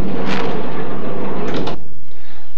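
The side door of a 1981 Chevy van slides shut, a loud rolling rumble that ends in a solid thud, followed by quiet.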